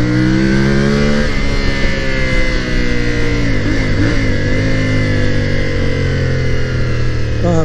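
A custom Honda 450CL-C motorcycle engine runs steadily and loudly up close, its pitch shifting slightly as it revs over several seconds.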